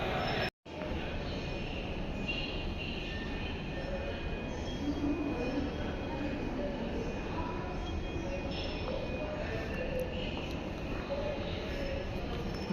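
Mumbai's first underground metro train running through a tunnel, a steady loud rumble of wheels and carriage noise with faint squeals, continuous for the whole stretch after a brief dropout near the start.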